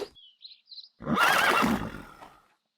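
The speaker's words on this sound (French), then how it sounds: "Un cheval." A horse gives one loud, shaky whinny that trails off, preceded by a few faint high chirps in the quiet.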